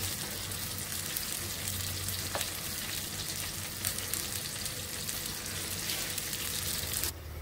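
A pot of khichuri simmers on the stove, giving a steady soft sizzle and bubbling hiss, fairly quiet and continuous, with a light clink near the end and no talking.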